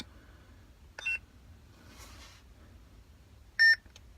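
Two short electronic chimes from a Korbanth OWK lightsaber with a Neopixel v4 install switching sound fonts, one at about a second and a louder one near the end, separated by quiet hum; no talking.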